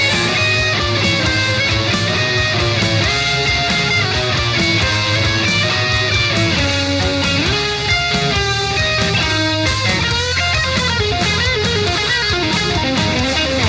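Electric guitar plays the outro rhythm part over a dense full-band mix, loud and continuous with no talk.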